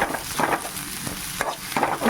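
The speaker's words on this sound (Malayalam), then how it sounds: "സവാള വഴറ്റാം." Sliced onions sautéing in a small clay pot for a dried prawn and mango curry, a steady soft sizzle with occasional stirring scrapes, close and alone without talk.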